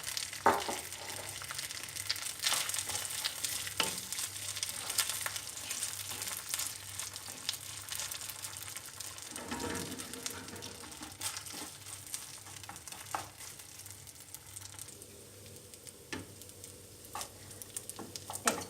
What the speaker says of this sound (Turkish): Ve biraz kavuracağım.